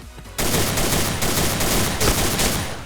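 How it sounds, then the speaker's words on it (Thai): Gold dual Desert Eagle pistols in a video game firing in a fast, continuous barrage, loud and close, a dense rattle of shots running nearly unbroken after a brief quiet start. "แถมเกียร์นี่นะฮะยิงแบบรัวได้"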